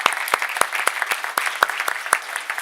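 Sparse applause from a small audience closing a talk on AI, economy and societal impact, with distinct individual claps spaced unevenly, fairly close and moderately loud, with no voices over them.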